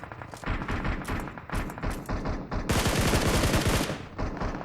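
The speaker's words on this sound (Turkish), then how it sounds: "Silah vurduk." Rapid bursts of automatic gunfire from a battle royale shooter game rattle in quick succession, dense and continuous, with a heavier sustained volley near the end.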